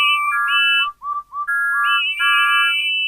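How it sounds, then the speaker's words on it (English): Cartoon steam engines whistle in a bright, cheerful chorus, several loud, high, clear tones overlapping in short bursts with brief gaps, close and alone without talk. ""Hooray, hooray," the engines whistled."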